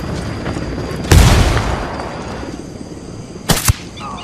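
A C4 charge detonates in Ghost Recon Wildlands as a heavy boom. A second sharp blast follows a few seconds later, and no voices are heard.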